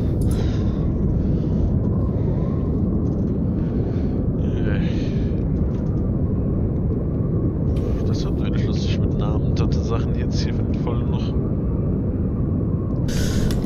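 A storm roars across an alien planet in the game Astroneer, a dense, loud, continuous rumbling wind that holds steady throughout, with a German-speaking voice talking over it.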